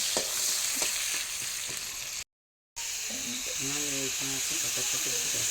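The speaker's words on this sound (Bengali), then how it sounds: "মাছ ভাজছে।" Fish frying in a pan on a home cooking stove gives a continuous close sizzle and hiss with stirring scrapes. It cuts out briefly partway through, and a voice joins under the frying afterward.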